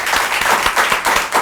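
A studio audience on a talk show applauds a guest, with lively, close clapping and a few distinct individual claps poking out of the steady wash, with no talk over it.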